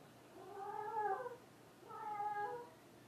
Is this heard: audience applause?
no